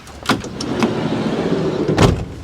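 The door of a VW Crafter camper van pulled shut: a sliding rumble and a sharp thud near the start, a couple of smaller knocks, then a second solid clunk as it closes, close and fairly loud.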